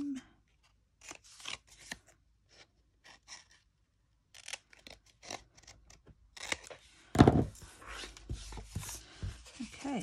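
Scissors trim paper for a handmade journal pocket in a series of short, close snipping cuts, with shuffling and rustling of paper between them and a louder burst of handling noise near the end.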